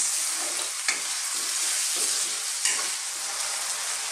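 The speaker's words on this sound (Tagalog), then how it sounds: "Again, stir lang natin siya ng mga ilang minuto." Bottle gourd and chicken sauté in a pan, a steady bright sizzle broken by a few soft scraping strokes of the stirring utensil.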